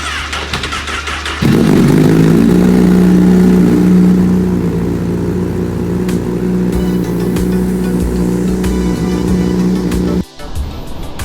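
A Honda CBR1000RR motorcycle engine cranks briefly, then fires up and settles into a loud, deep, throaty idle with a rumbling aftermarket exhaust, cutting off near the end.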